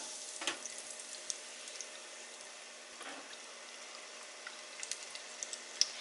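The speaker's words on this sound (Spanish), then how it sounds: "Cuando ya el aceite esté bien caliente, las vamos a poner más o menos una cantidad así para que tengan espacio y las vamos a freír" Chicken croquettes fry in hot oil with a steady, quiet hiss and scattered small pops and crackles, faint and alone.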